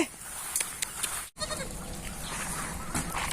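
Goats bleat repeatedly at close range while being herded into a pen on a farm, with overlapping calls and steady outdoor background noise.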